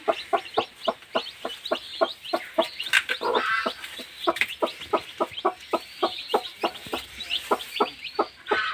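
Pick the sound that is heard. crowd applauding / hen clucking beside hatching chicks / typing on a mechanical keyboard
hen clucking beside hatching chicks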